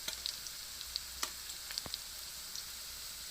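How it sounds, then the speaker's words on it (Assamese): Onions fry in a pan with ginger and garlic, giving a steady close sizzle with a few small pops and crackles scattered through it. No one speaks. "এয়া মোৰ পিঁয়াজখিনি ভাজা হৈছে।"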